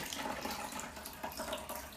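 Tap water runs steadily into a sink while fruits and vegetables are washed under it, a continuous near splashing hiss with small shifts as the stream is broken.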